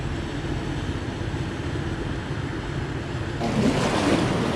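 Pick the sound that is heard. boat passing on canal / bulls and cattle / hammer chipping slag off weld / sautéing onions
boat passing on canal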